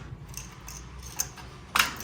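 A bunch of keys jangles briefly while a house door is unlocked, with small metallic clinks and one sharper rattle near the end, fairly close and quiet.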